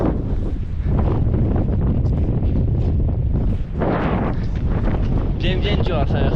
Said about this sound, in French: il y a pas mal de vent comme vous voyez au col